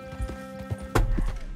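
Horse hooves clip-clop in Red Dead Redemption 2 as a rider steps along in the game. The hoofbeats are steady and close, with one louder thud near the end and a faint background tone running throughout.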